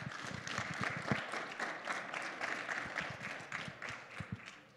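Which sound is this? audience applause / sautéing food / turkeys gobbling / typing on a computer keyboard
audience applause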